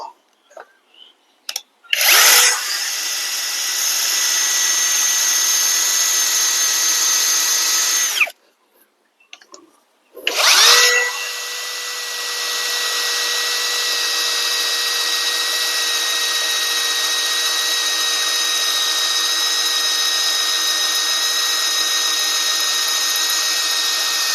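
A brushless cordless multifunction drill bores into concrete block in two loud, steady bursts, the first about six seconds long, then a short pause and a longer sustained run with a constant high motor whine.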